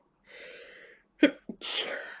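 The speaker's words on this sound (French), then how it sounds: "Je vais éternuer." A single sharp sneeze preceded by a soft inhale, followed by a brief exhale and a gasping breath, close and fairly loud.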